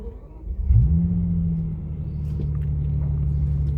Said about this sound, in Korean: 우선 냉간 시동의 모습을 좀 보여드리고 싶어요.